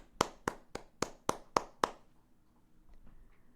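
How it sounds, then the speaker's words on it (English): Seven sharp hand claps in a steady, fairly quick rhythm, close and clear, followed by quiet room tone with faint background noises. "Claps, everybody."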